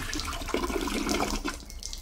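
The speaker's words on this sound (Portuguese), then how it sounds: "Eu dei a descarga 3." A toilet flushing in a bathroom in a horror video game, a rushing, gurgling swell of water that builds and then tapers over a couple of seconds, with no talk over it.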